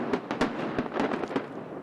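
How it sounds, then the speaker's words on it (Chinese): Fireworks over Taipei 101 on New Year's Eve, a low-smoke display, heard as a run of sharp bursts and crackling pops at an uneven rhythm, moderately loud against a steady crowd murmur. "今年台北101烟火主题 Spark 101是头一届用少烟的烟火"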